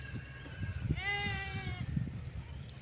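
Kodi goats and sheep at a livestock sale: one clear drawn-out bleat near the middle, fairly close, over low background rumble and scattered thumps.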